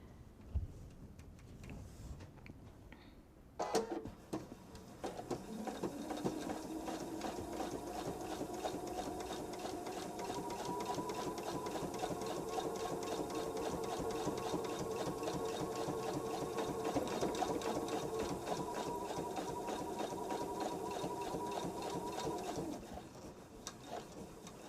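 A sewing machine runs at a steady hum, close up, stitching closed the turning opening of a fabric coaster, after a quiet start with a faint background coo, then stopping near the end.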